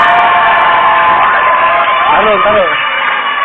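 A crowd cheers and shouts loudly and continuously, with excited voices mixed into the noise.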